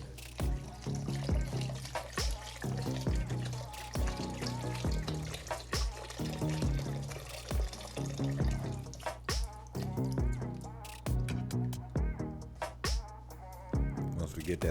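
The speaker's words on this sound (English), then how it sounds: "And then we're gonna add in our vegetable stock. Now this is 4 cups of vegetable stock." Four cups of vegetable stock pour into a pot of butternut squash chili, a wet splashing and dripping stream with a rapid, irregular patter that runs throughout, over background music.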